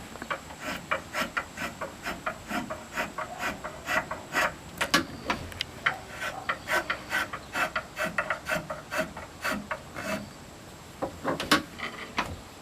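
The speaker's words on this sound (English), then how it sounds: "You've got to pull the spoke shave out of that cut before it starts up the other side." A spokeshave shaves a wooden chair stretcher in a quick, steady run of short rasping strokes, each a crisp scrape, heard close up without speech and with a brief pause near the end.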